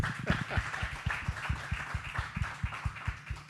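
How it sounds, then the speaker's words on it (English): Audience applause for the panelists at a mobility startup panel discussion at CoMotion Miami, a steady stream of claps from a room-sized crowd, fairly constant throughout with no talk. "let's give the panelists a round of applause"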